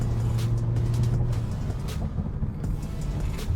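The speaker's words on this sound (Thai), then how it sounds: "เดี๋ยวผมจะลองขับเข้าไปที่ข้างหน้าแล้วก็ลองเบรกดูครับ" A car with newly changed brake pads rolls forward and slows under braking, heard as steady low road and engine noise from inside the cabin without a squeal. No one speaks.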